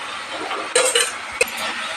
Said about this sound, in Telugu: టమాటా ముక్కలు వేసేసుకోవచ్చు.